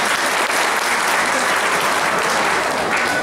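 An audience at a Turkish poetry recital breaks into dense, sustained applause, with many hands clapping together in a steady, loud wash that holds from start to finish.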